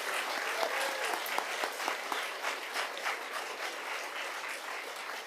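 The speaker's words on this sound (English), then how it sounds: "Clap for that, yes." Steady applause from a school board meeting audience, many hands clapping in a dense, even patter that holds for several seconds at moderate distance.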